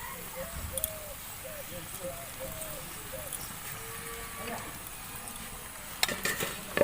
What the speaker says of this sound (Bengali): পনিরটা দেওয়ার পরে আবারও ভালোভাবে নাড়াচাড়া করে নেব